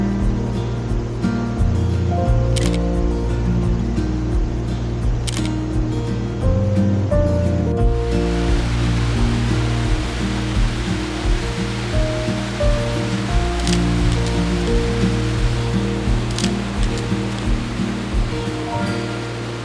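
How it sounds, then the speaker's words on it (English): Nevada Falls in Yosemite, a large waterfall with heavy flow seen from the top, gives a loud, steady roar of rushing water that holds throughout, with no talk over it. "Geez, there's so much water going over the top of the waterfall here."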